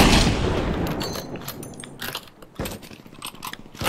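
Anti-tank rifle in a trench-warfare shooter game: a loud close shot at the start, then sharp metallic bolt clacks and mechanical rattles in an irregular sequence, with several more bangs following.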